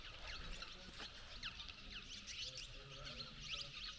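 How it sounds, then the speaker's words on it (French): Dozens of small birds chirp and twitter together at the Maya ruins of Uxmal, Mexico, a lively outdoor chorus of quick, overlapping high calls throughout. "il y a des dizaines de petits oiseaux là qui piaillent"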